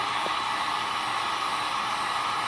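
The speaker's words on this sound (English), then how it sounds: "Go ahead and get the heat gun" A heat gun blows a steady, loud hiss of hot air onto a Fiero sidemarker to soften its glue, with an unbroken roar running through the whole stretch and no talking.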